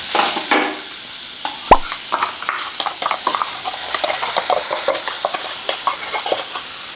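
Mashed split lentils being fried and stirred in a pan over heat, with soft continuous sizzling and frequent scraping and tapping of a spoon against the metal, plus one sharp clank early on, no talking.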